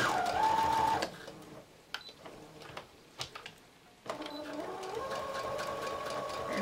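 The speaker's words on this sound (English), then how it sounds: "just do a nice double row of stitching" A sewing machine stitches a double row on elastic, with a steady motor whir for about a second, a pause with a few clicks, then a longer continuous run of stitching.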